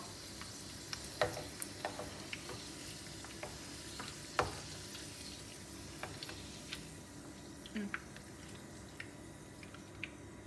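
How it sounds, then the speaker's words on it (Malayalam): Soft, steady sizzling of french fries frying in hot oil, with scattered pops and occasional clinks of a utensil stirring. "വറുത്തിട്ടുള്ള ഫ്രഞ്ച് ഫ്രൈസ്"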